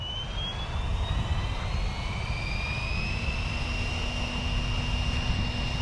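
The electric motor of an RC helicopter on its maiden flight spools up with a rising whine that climbs in pitch and then holds steady, joined by a broad whooshing of the rotors.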